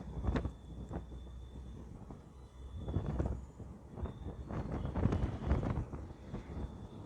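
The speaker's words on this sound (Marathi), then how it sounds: "असा वाहणारा झुळझुळणारा वारा" Wind rushes and buffets past a moving taxi in uneven gusts over a low road rumble.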